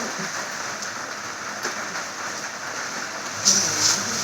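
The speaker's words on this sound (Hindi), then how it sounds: "बारिश तो जरूरी है ना, बारिश जरूरी तो है" Steady rain falling and pattering on surfaces nearby, a constant soft hiss with occasional louder drops, with faint voices in the background.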